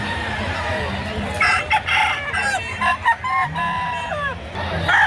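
Roosters crow and chickens cluck at a poultry market behind SM Lipa, Batangas, with several overlapping calls rising and falling close by over a steady crowd murmur.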